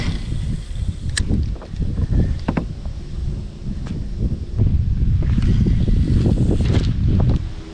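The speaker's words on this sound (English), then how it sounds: "I still don't like that wind." Wind buffets a microphone out on the water during a fishing trip, a loud, steady rumbling roar with gusting swells and faint rustle, no voices.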